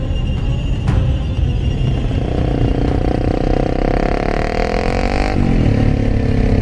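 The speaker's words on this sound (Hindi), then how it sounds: "एक दूसरा आदमी बाइक लेकर वहां आता है" A motorcycle rides up and comes to a halt, its engine running steadily and loud and close, with the pitch shifting as it slows, then settling near the end.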